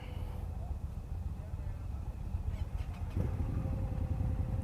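A 2018 Indian Scout Bobber motorcycle sits at a low rumble, then its engine catches partway through and settles into a deeper, uneven idle close by.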